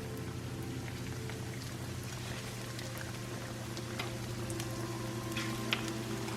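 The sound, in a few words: chicken sizzling as it is laid in hot oil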